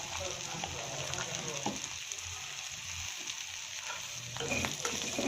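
Turmeric and chili powder fry with dried fish for a shutki bhuna, a soft continuous sizzle with occasional scraping stirs of a spatula, fairly quiet and close.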